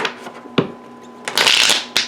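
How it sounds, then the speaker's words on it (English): A few crisp card taps, then a quick riffle shuffle that rises into a dense, bright rush of flicking cards up close. "Let's go ahead and shuffle cards for Aries."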